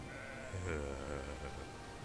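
Sheep bleat in the video game Magicka, a short wavering call rising over a low steady hum of game ambience, fairly quiet and alone without talk.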